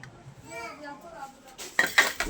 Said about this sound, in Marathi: सगळा पसारा पडला खाली डायरेक्ट फ्रीज उघडल्या उघडल्या